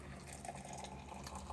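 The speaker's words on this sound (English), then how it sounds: "Pouring water for tea" Water is poured for tea, a soft steady splashing trickle that runs throughout, close but quiet, with no voices.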